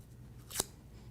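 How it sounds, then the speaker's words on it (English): A single quick scissor stroke curls a paper flower petal, one sharp soft swish near the middle against a quiet background hum. "So just scissor curl your petals."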